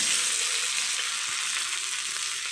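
Ginger frying in hot oil while cooking a katla fish head dish with taro greens, a dense, continuous crackling sizzle, close and steady with no voices.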